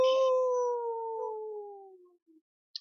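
A human voice imitates a creature's deafening howl: one long, falling, wavering tone that tapers off over about two seconds, close and clear, with a faint click at the end.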